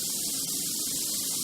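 Bragg organic all-purpose soy sauce sprayed onto meat from a pump bottle, a steady, close, continuous hissing mist lasting throughout with no talking.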